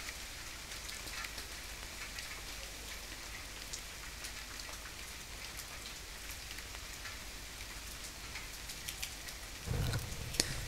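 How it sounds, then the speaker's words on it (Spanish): Steady rain falls in the video game The Forest, a continuous even patter and hiss that runs the whole time with no talk, then a brief low rumble rises near the end. "Qué raro, lloviendo."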